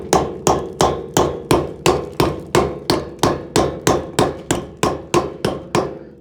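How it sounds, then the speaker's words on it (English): A bent conduit fitting is struck with a hammer in a steady series of about fourteen loud, sharp metallic blows, evenly spaced and close by, with no talk. "And I should be able to hammer that now."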